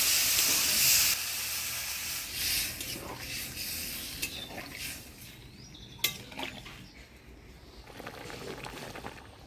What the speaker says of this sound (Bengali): এবার জল দিয়ে দিই।